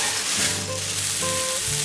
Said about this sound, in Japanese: さっともやしを炒めます